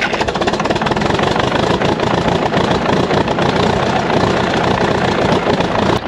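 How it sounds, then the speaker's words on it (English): An old 3T diesel dozer engine runs after a cold start in winter, a loud, steady, rough rumble with a continuous knocking pulse throughout. "Super excited I got this old 3T dozer running."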